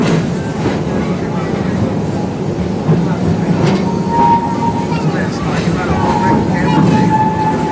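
A park train at Busch Gardens in Florida rumbles across a small trestle into the Serengeti area, with a steady loud rolling drone and faint rhythmic clacks under murmuring background voices.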